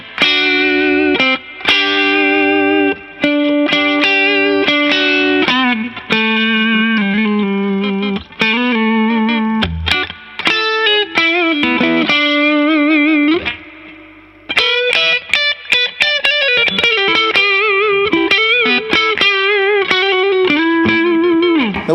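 Fender Telecaster Player HH electric guitar, Mexican-made, played through crunch distortion: strummed chords and riffs with short pauses, loud and close, alone with no talking.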